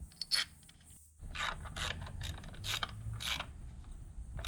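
A ratchet tightens the 10mm bolts on plastic car ignition coils while a Mazda valve cover gasket is replaced, giving quiet bursts of fast clicking separated by short pauses.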